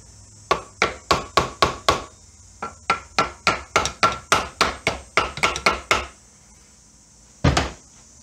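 A hammer taps a stuck motorcycle part, a Suzuki K11 engine piece clamped in a vise: about two dozen sharp metallic knocks in quick rhythmic bursts with short pauses, ending with one final louder blow after a gap.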